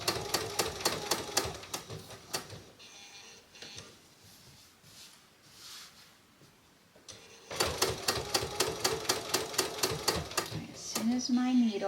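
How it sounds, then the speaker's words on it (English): A sewing machine stitches along a tea towel seam in two rapid, rhythmic bursts of needle strikes separated by a quieter pause, loud and close, with a brief voice at the end. "I'm going to stitch up to this seam"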